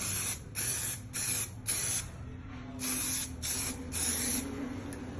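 An AC Pro-Tech coating is sprayed onto AC fan blades in about seven short hissing bursts with brief pauses between them. The spray is close and fairly quiet, and no one speaks.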